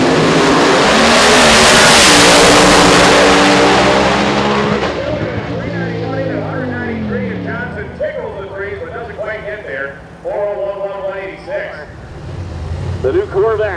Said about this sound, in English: The screw blower on top of the alcohol-burning Hemi.